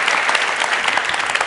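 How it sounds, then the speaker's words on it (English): A TED talk audience gives itself a round of applause, a loud, dense burst of clapping from many hands that stays strong across the short stretch with no speech. "Give yourselves a round of applause."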